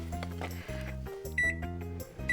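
A microwave oven sounds a few repeated electronic beeps after a 20-second run on high to melt chocolate, steady tones heard close and alone.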